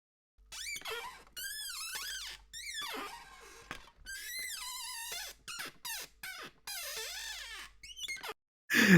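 A guitar bridge squeak sample: a series of squealing, pitch-bending squeaks, like strings rubbed over a guitar bridge, repeats in bursts with a short gap before a loud final hit.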